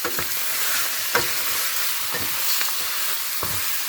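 Chicken pieces frying in a pan for adobo, rendering their own fat, give a steady close sizzle broken by several sharp scrapes and knocks of stirring, with no voices.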